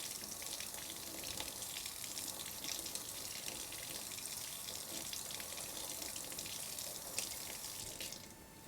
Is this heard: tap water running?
yes